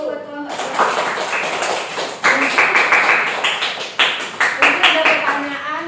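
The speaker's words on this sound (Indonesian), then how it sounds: "Tepuk tangan dulu buat kelompok 2." A classroom group claps in rhythm, quick close taps repeating in short bursts, with voices talking over the clapping.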